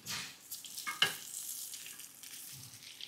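Potatoes being stirred and fried in a kadhai make a close, quiet crackle of frying with a few scraping stir strokes and one sharp metallic knock, and no voices are heard.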